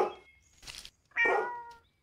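A cat in a video game meows twice, the second longer and louder, with a soft breathy sound between the calls and no talking.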